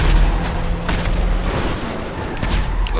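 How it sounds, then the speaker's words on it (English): Tank cannon fire and explosions in the video game GTA 5 form a dense, continuous barrage of loud booms and blasts, with sharp repeated impacts over a heavy rumbling low end. "Oh crap, tank!"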